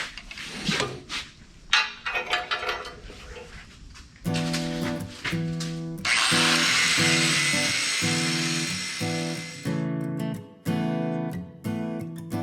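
A power drill bores a hole into a metal boat trailer being converted into a motorcycle hauler, with short bursts and a longer run of close, loud whirring after some handling clatter.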